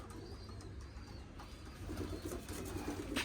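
Pigeons feeding on scattered grain near their rooftop shelter, with soft, faint cooing and light rustling that continue steadily for a few seconds.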